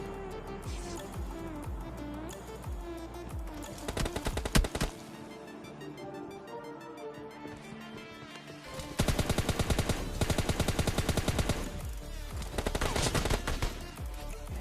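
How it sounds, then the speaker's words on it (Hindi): Rapid M16 rifle fire in PUBG Mobile Lite, loud, dense automatic bursts around the middle and a longer heavy burst in the second half, with other game sounds in between. "तभी हमें सामने से M16 चलने की आवाज़ आती है"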